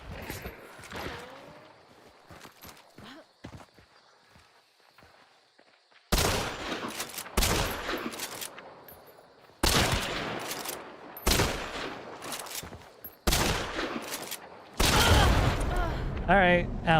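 Gunfire in a video game, quiet scattered shots and footsteps at first, then loud bursts of rapid automatic fire in several separate volleys, with a voice speaking in between.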